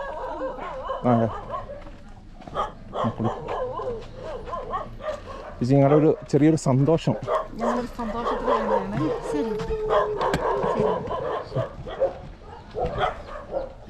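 A dog barks and yips in a short burst, close by, while people talk throughout.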